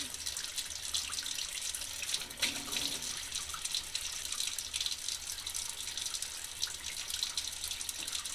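Tap water runs steadily into a sink while stage floor paint is washed off hands in a paint shop, a continuous close hiss and splash with small shifts in flow and no talk.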